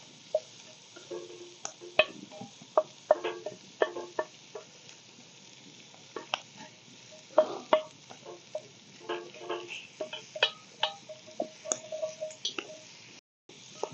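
Sausage browns in a Dutch oven over an open fire, giving faint, scattered sizzles and pops over a low hiss, with occasional soft scraping from stirring.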